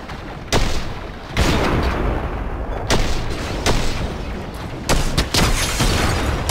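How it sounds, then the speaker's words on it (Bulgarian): Gunfire in a Fortnite match, several loud, sharp shots and short bursts at irregular intervals over a noisy game background. "Връщаме на стрелбата."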